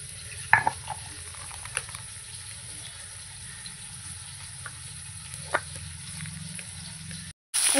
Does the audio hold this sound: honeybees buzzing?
no